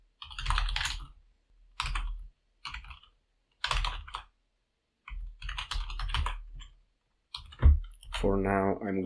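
Computer keyboard typing in bursts of rapid key clicks separated by short silences, close and fairly loud, while editing C++ code; a voice comes in briefly at the end.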